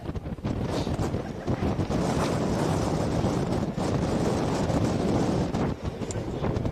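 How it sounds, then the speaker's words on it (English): Strong wind roars across an outdoor football pitch during a minor football final, buffeting the microphone in a continuous loud rush with brief dips and gusts. "The wind is getting stronger"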